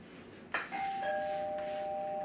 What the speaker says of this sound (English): He has a thing about the doorbell.